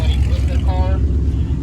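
A low, heavy engine rumble fills the cabin of an Audi R8 supercar during a rally launch meet, steady and close, with a brief tonal whine mid-ride.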